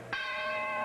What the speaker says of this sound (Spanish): Suena la campana.